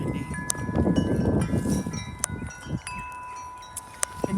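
Wind gusting around a sailboat moored near a tree on a windy day, a steady broadband rush with buffeting microphone noise and a few sharp knocks, no voices.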